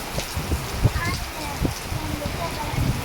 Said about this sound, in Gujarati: કેટલો વરસાદ પડી રહ્યો છે વીજળીના ચમકારા પણ છે અને એટલો વરસાદ છે અને સાથે પવન પણ એટલો જ છે